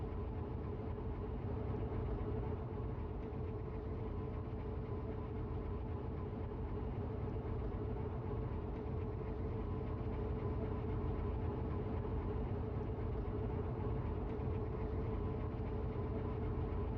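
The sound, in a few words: train driving into station in a video game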